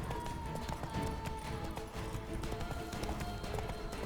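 The horse Roach gallops in The Witcher 3, with quick, rhythmic hoofbeats clip-clopping continuously at moderate volume over a soft background.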